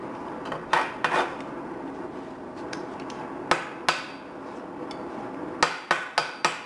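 Sharp metallic hammer knocks chip heavy slag off a steel cut made with a cutting torch, single raps and a quick run of strikes at the end over a low background.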